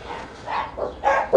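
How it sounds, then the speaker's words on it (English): Dogs bark in a quick series of four or five yaps, moderately close, with short gaps between them. "there's the crazy bloody dogs"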